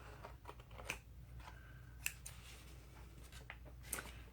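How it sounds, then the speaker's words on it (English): Scissors snipping the ragged edges off a collaged sheet of paper strips, quiet separate snips with small rustles between them, close and soft, no talking. "Cut all these little pieces, all the little edges off."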